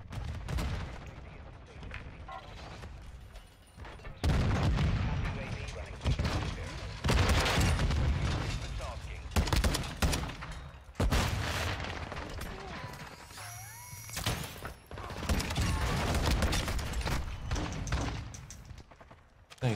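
Flashbang grenades going off amid heavy gunfire in Modern Warfare II, with loud booms and rapid automatic bursts, a ringing tone, and a player talking over the chaos.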